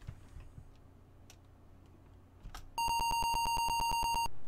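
An Apple II game beeps, a rapid regular train of about a dozen sharp, bright electronic bips starting abruptly and continuing loud to the end, after quieter background rustling.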